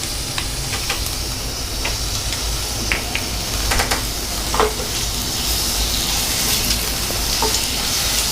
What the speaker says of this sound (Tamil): இதுவும் நல்லா பச்சை வாசம் போகிற வரைக்கும் நம்ம நல்லா வதக்கிக்கலாம்